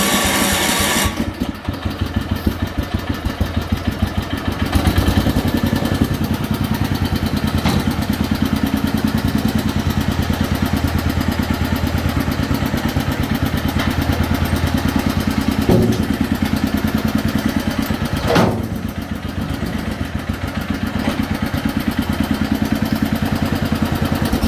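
A Moline 114 garden tractor engine, converted to battery ignition and with its muffler's downturn rusted off, runs at a steady, loud idle with a raw, clattering exhaust note that continues alone for the whole stretch.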